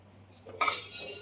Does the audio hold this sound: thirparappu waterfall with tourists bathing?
no